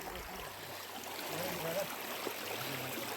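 A stream flows beside a riverside picnic spot, a steady broadband wash of running water heard close and continuous throughout, with faint low rumbles and scattered background sounds underneath.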